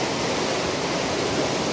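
The river rushes at the Falls of Clyde near New Lanark in Scotland, a loud, dense and unbroken roar of water close by, with no voices.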